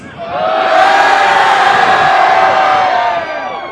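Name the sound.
crowd cheering and booing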